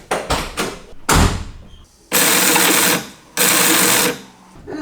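A Porsche 944 windshield washer pump motor runs in a few short bursts, with brief whirring pulses at first and then two longer, steady buzzing runs close to the microphone.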